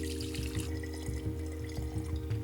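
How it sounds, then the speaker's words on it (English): Homemade cocktail bitters poured through a cheesecloth-lined strainer: a continuous close trickle and splash of liquid with small drips, over a low steady hum. "you just want to pour that liquid through"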